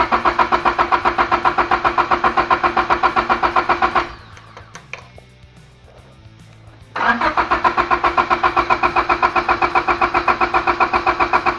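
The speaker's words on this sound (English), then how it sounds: "I unplugged the fuel injectors, I'm going to crank it over and get oil going through the turbo." A Honda Civic EK with a turbocharged D16Y7 engine cranks over with its fuel injectors unplugged, a loud rapid rhythmic starter chug that stops for about three seconds, then resumes without catching.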